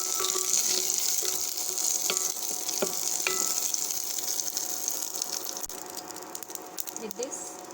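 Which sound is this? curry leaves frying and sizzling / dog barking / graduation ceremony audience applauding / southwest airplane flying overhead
curry leaves frying and sizzling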